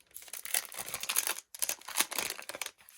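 Cellophane wrapping on a small Etsy order crackles and crinkles as it is pulled open, several quick close bursts with a brief pause midway.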